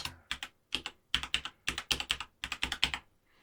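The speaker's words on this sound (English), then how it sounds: "we can then type in the number that we want to call" Keys clatter on a computer keyboard as a phone number is entered, in rapid bursts of crisp clicks grouped into short runs with brief pauses between them, close and fairly quiet.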